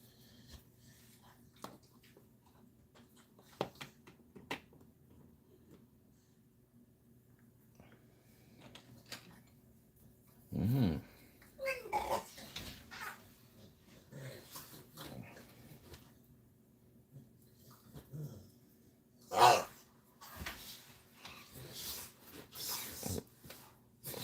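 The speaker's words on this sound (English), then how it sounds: "The dog's gone off its nut." A dog breaks into sudden snorting barks and growls in a few loud, separate bursts, with quieter rustling and a low hum between them.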